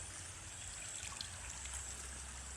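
Water trickles faintly at a natural water source in a forest, a soft steady babble with light splashy detail, distant and unbroken, with no voices.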